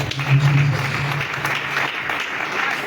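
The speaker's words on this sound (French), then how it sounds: "Acclame Jésus-Christ" A church congregation applauding and cheering for Jesus Christ, a steady wash of clapping from a crowd in a hall, fairly loud and continuous for a few seconds, with a few raised voices mixed in.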